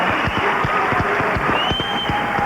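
A studio audience on a live talk show in Detroit claps steadily, with irregular overlapping hand claps and faint crowd noise throughout.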